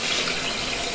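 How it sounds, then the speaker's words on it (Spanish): Water runs steadily from a tap while an aquarium protein skimmer cup is rinsed beneath it, a loud, continuous, broadband splashing rush close by with no pauses. "La manera más sencilla es bajo el grifo."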